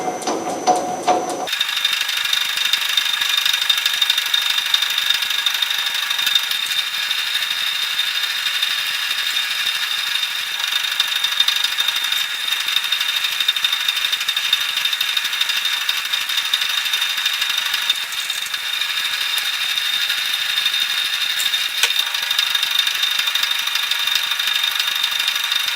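Reamer cutting a bushing on a South Bend 13 inch lathe gives a steady, close mechanical whine with high squealing tones, running alone and unbroken after a brief start.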